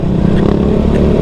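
An everyday road motorcycle, not a trail bike, rides over a rocky trail in Bulacan, its engine giving a steady, loud, close low rumble throughout with no pause.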